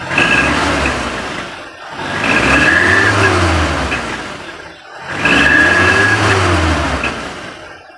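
A 2018 Suzuki Carry Futura pickup engine revs up to about 4000 RPM and settles back twice, two long swelling roars with a steady idle between them, close and loud.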